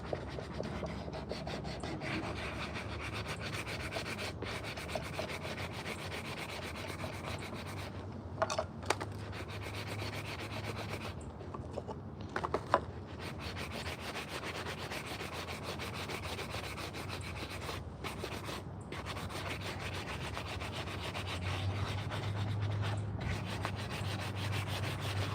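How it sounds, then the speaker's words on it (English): Sandpaper rubs back and forth over a hand-carved wooden spoon, a continuous close scratchy swishing with a few brief pauses, no talking. "I think we're not far off as far as the amount of sanding that we're going to do here"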